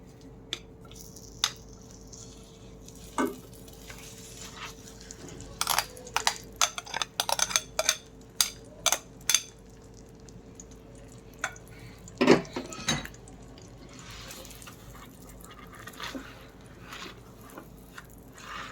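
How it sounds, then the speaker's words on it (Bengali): Ground chana dal slowly fried and stirred in ghee for a halwa, with sporadic utensil scrapes and knocks against the pan that cluster into a busy, clattering stretch midway, then thin out again; no speech. "এখন ডালটা সুন্দরভাবে ঘিয়ের মধ্যে আস্তে আস্তে ভাজবো"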